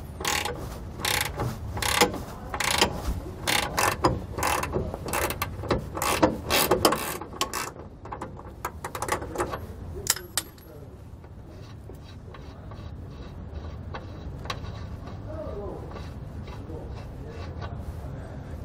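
A hand ratchet loosens the nut on a bolt while installing a Roadmaster Reflex steering stabilizer on a 2017 Coachmen motorhome, with rapid, close metallic clicking strokes for about ten seconds before things go quieter.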